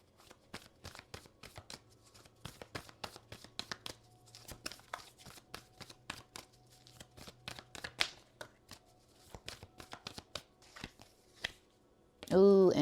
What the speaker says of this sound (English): Okay, so I'm gonna pull 2 cards from here, and then we'll get an overall energy.